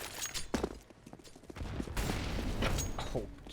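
Grenade blast in Counter-Strike on the Vertigo map during a competitive esports match, heard as a few sharp bursts over busy game noise and gunfire-like crackle, close and fairly loud.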